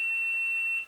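A multimeter's continuity beep while probing a resistor on a POCO X3 phone circuit board: one steady, fairly loud electronic tone held for nearly a second, then cutting off, with no other sound around it.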